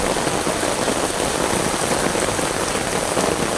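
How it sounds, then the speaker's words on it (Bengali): Steady rain pours onto surfaces nearby, a dense, even hiss of countless drops with no voices, holding constant throughout. "আগে বৃষ্টির শব্দটা শুনুন"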